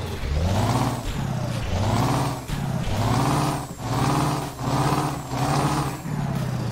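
A Scania 143 500 truck engine in Euro Truck Simulator drones steadily up close, its pitch swelling and falling in regular waves as it revs through repeated cycles.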